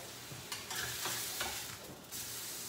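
A keto steak is flipped in a hot pan and sizzles steadily and loudly, with a few soft scraping knocks from the turn over a constant frying hiss.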